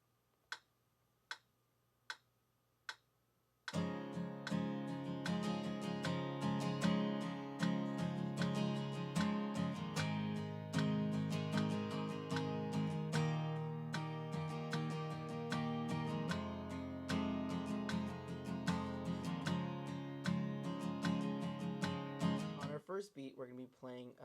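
An acoustic guitar strums a steady four-beat pattern for a worship song, entering after four sharp count-in ticks, then running as dense rhythmic chords with no gaps before stopping near the end.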